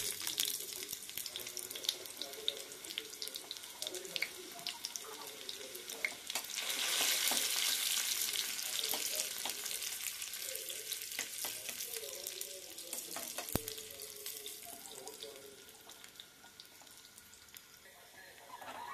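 Sliced onions frying in oil in a pan for a Telugu home-cooked meal, a steady hiss and crackle of sizzling with some stirring scrapes, swelling louder midway then easing, fairly close and moderate in level.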